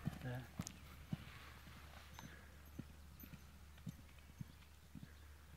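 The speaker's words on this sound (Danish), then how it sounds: "Og så er det galop." Soft, distant hoofbeats of a horse moving across open ground thud at irregular intervals under low outdoor background noise, with people talking faintly nearby.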